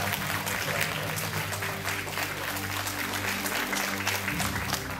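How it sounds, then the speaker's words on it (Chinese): Audience applause at a stage ceremony during a gift exchange before a performance, a dense, steady wash of clapping that stays loud and continuous throughout. "掌声祝贺。"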